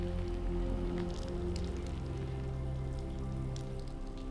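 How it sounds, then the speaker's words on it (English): Water sprays steadily onto metal, a dense, even patter like rain with a low hum underneath and no talking. "So I help it a bit to spray it with water and help pretend that I'm rain."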